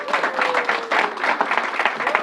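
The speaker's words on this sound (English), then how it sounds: "Let's give the Assembly member another round of applause." Audience applause for an Assembly member at a New York Covid-19 press briefing: dense, steady clapping from a crowd with a tonal voice-like hum running through it, sustained throughout.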